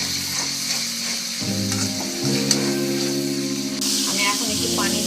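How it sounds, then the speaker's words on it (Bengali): Onion and garlic paste fries in a pan for a Bengali pabda fish curry, giving a steady close sizzle with light stirring under background music. "পেঁয়াজ আর রসুনটা আমি ভালো করে ভেজে নেব।"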